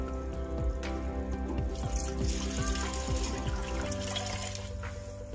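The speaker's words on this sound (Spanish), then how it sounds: "Vamos aquí a agregar el litro de agua que les comenté que íbamos a ocupar." A litre of water is poured into a cooking pot for a meatball broth, a steady splashing stream with rising tone as the pot fills over a constant kitchen hum.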